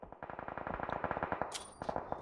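Rapid bursts of rifle gunfire in a PUBG Mobile match, including M24 shots, crack in a dense rhythmic string of closely spaced reports with a brief echoing tail, loud and with no talk over them.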